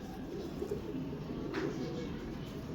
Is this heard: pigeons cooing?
yes